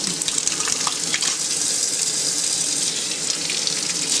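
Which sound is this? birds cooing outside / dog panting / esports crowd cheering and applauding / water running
water running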